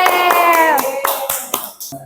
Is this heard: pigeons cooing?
no